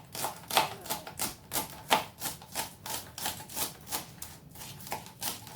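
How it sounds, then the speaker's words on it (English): A knife chops scallions on a cutting board in a quick, even series of about a dozen crisp taps, close and fairly loud, with no talking. "So I'm going to cut just these scallions."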